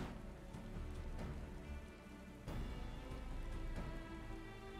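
Steady rain falling in the video game Final Fantasy XIV, a dense, even hiss of drops on surfaces that continues throughout over faint sustained background tones.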